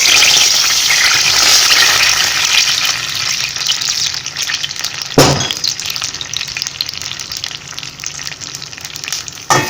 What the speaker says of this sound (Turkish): Sıvı yağımızın bu kadar kızarması yeterli. Şimdi kuskusumuzu ilave ediyoruz.